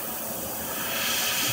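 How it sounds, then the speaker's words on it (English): An airbrush sprays AK Real Colour lacquer acrylic paint in a steady, close, continuous hiss that swells slightly louder toward the end. "that's spraying real nice."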